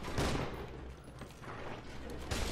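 Gunfire in the FEAR 2 shooter game, rapid overlapping shots forming a dense fusillade with bursts at the start and end and a sustained barrage between, moderately loud and slightly muffled, with faint voice traces underneath.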